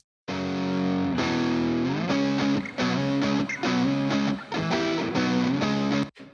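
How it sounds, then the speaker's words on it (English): Electric guitar with a distorted, effected tone played through room reverb panned to the right, loud and continuous with sustained chords and rhythmic shifts, ending abruptly. "So now we have the left hand guitar on the left and the reverb on the right."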